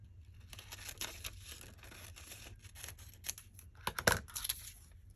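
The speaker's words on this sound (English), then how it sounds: "Let's cut it off right about here." Scissors cut through a sheet of paper to trim a lace journal card, a run of close crisp snips and rustles with a louder cluster of cuts and crinkles toward the end.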